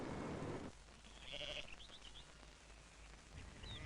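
Merino sheep in Australia bleating, several short calls rising over a steady background of wind or distant noise, the flock heard at moderate distance with no talk.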